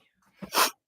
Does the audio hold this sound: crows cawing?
no